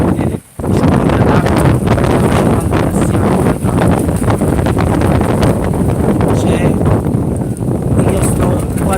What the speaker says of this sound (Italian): sentite il vento, sta muovendo tutta la persiana